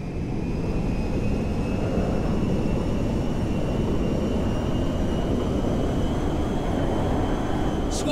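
Jet airliner engines roar steadily in Grand Theft Auto V as the plane comes in to land, a loud broadband rumble with faint whining tones, unbroken for the whole stretch with no talk.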